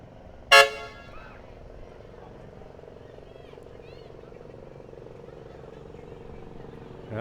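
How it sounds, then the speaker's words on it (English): A piercing horn blasts once from a train-car float rolling in a small-town railroad parade, a sharp loud toot followed by a low steady engine rumble and faint distant street noise. "with the most piercing horn we've heard"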